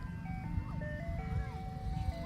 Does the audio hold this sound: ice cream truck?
yes